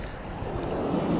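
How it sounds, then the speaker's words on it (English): Steady ocean waves washing and surging nearby on a wavy day at sea, a continuous broadband rush with no talk. "Just a lot of waves today."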